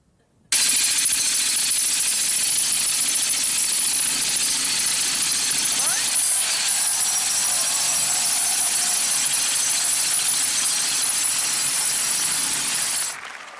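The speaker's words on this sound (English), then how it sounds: "Or would you rather listen to the jackhammer?" A jackhammer played for a television studio audience, a loud, steady broadband hammering racket that runs continuously for about thirteen seconds, then cuts off.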